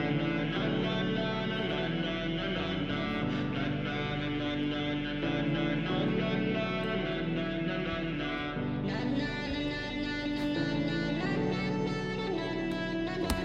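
A full produced beat plays alone in context, with dense layered melodies, sustained harmonic synths and steady low bass, shifting to a brighter, fuller section partway through.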